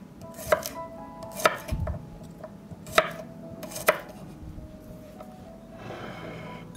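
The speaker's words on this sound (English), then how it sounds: "I have prepared the meat and will chop 4 cloves of garlic." A knife chopping garlic cloves on a board, four distinct sharp knocks spaced about a second apart over quiet kitchen background, ending in a soft rustle.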